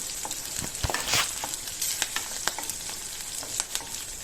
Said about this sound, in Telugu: సో వేగుతుండగా ధనియాలు వేసాను. సో మొత్తం కలిపి ప్రాపర్గా వేగే వరకు తిప్పాలి.